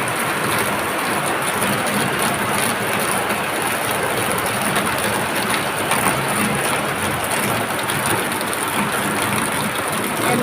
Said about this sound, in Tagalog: Ayan guys, lumalakas ang ulan.